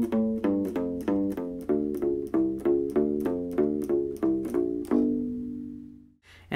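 U-Bass with flatwound strings playing a fast alternate-picked fill, a steady string of rounded, thumpy bass notes ending on a held note that fades out, with no talking.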